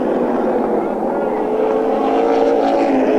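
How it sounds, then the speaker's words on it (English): Race car roaring across the finish line at the end of a 50-lap International Series race, a loud continuous engine drone with a rising pitch, mixed with a voice speaking over it. "Steve Miller in the 3 out of 4 and across the line to take the 50-lap International Series win."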